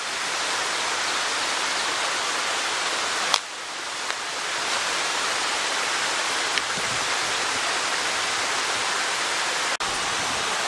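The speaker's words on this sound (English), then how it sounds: "It's a toxic waterfall. That orange water." Orange, toxic water pouring down a small waterfall outdoors, a constant broadband rush close by with no talk, broken by a couple of brief clicks.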